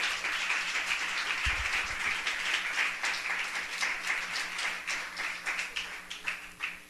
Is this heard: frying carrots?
no